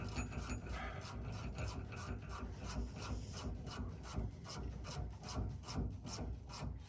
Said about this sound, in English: now I gotta get underneath here and tighten up this sway bar